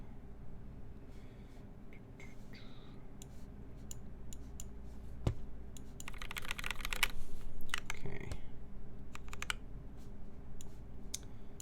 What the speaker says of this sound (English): the keycaps might sound okay